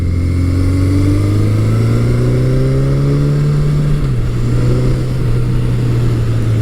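A carbureted motorcycle engine revs and accelerates loudly and close, its steady drone rising smoothly in pitch through the gear, then dropping slightly at a shift before climbing again.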